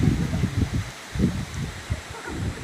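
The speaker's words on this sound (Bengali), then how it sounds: "গাছের পাতা নড়ে সরে এই জায়গায় দেখেন আজকে তোমার কি পরিমাণ ঝড় হইতেছে" Storm wind gusting through tree leaves in a village under cloudy skies, a steady broadband rustle with rumbling low gusts swelling and easing, with no voices.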